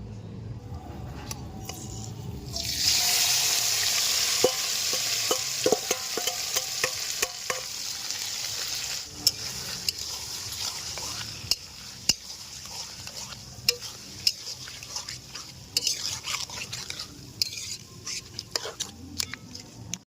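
Marinated chicken liver and gizzard sizzle loudly in hot oil with whole garam masala spices and bay leaves, stirred with scraping spoon strokes throughout; a loud hiss bursts in early and settles into steady frying, with faint voices underneath.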